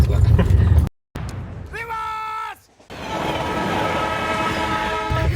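A nearby train blasts its horn in a long, rising tone, then the steady rumble of rolling rail cars follows, with voices talking over the noise.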